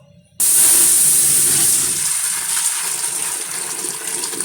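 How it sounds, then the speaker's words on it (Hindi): Homemade hot and sour chicken soup is poured back into a pressure cooker, starting abruptly with a loud, steady gushing splash that continues without a break. "ये मैं सूप इसमें डाल रही हूँ वापस।"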